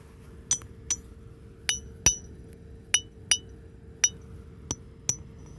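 A heavy piece of metal struck against metal outdoors near railroad tracks, about ten sharp, ringing clinks in an uneven rhythm, each bright and close with a short metallic decay over a low background hum.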